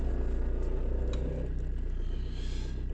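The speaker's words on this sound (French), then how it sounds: "Ce que vous entendez, c'est la boîte de vitesse" A 2000s-style Opel Corsa engine idles steadily close by, a low continuous rumble with a whirring drone from worn GM gearbox bearings running underneath.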